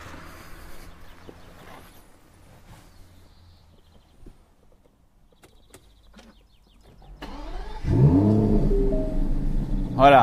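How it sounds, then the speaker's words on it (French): An Aston Martin DB11 engine fires up after a quiet cabin pause, settling into a loud, steady idle rumble that fills the final seconds. "Allez, on va démarrer le moteur."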